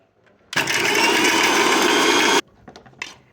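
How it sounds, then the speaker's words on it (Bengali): A blender whirs loudly and steadily for about two seconds, grinding a spice paste with a little water for aloo dum, then cuts off abruptly, leaving faint kitchen clatter. "এরপর আমি ব্লেন্ডার করে নিব।"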